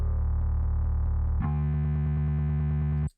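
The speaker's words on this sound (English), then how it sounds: "And that really is just that bass guitar." Dry bass guitar with the effects switched off, a short run of clean, sustained low notes played close, then stopping abruptly.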